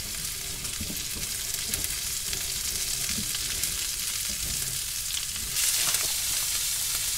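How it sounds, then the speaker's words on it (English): Food frying in a pan gets stirred, with a continuous loud sizzle and scraping, clattering stir noises over it, and a brief rise in intensity near the end. "let's give that a stir"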